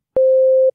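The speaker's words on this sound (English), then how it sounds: "let's bring just a sine wave" A single steady, pure sine tone from a 3xOsc synthesizer starts with a faint click, holds at one mid pitch for about half a second, then stops abruptly.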